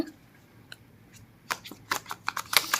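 Tarot cards shuffled for a reading, a crisp burst of riffling and flicking that starts faint and builds into a rapid run of close, dry card snaps toward the end.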